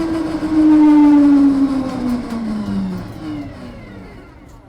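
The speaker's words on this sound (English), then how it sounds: "So that chain noise is this look" A drive chain rubs against a plastic sprocket set too close on a tiny high-torque car, giving a loud whining rasp that sweeps downward in pitch as the car slows, alone with no talk.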